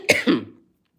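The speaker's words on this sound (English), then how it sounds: "Excuse me, I got a cough." A single person's cough, a sharp close double burst that dies away quickly into silence, heard alone without talk.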